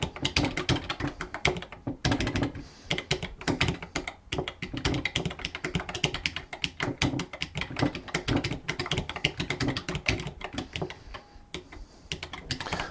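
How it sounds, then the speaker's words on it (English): Steady, fast typing on a computer keyboard, close up, with dense clicking keystrokes and brief pauses, no voices. "this is what I'm typing right now"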